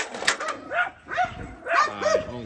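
Dogs bark and yip in short bursts while playing, several loud, close calls spread across a couple of seconds.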